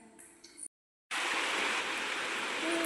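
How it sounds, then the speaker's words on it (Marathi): Heavy rain pouring over a porch with the hills hidden in mist, a dense loud steady roar that follows a brief quieter stretch of rain and a short silent gap. "तर पहा किती जोरात पाऊस आलाय."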